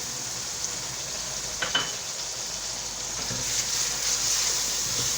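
Green chili paste and spices sizzle steadily in a hot pan on low-to-medium heat, a continuous broadband frying hiss that swells slightly louder toward the end, with a few faint stirring scrapes.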